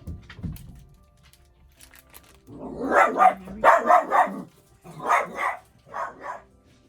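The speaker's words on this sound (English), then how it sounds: "Sorry for my dog, he heard something upstairs." A dog indoors barks in several loud, close bursts, clustered in quick pairs and triplets after a quieter start, with no talking over it.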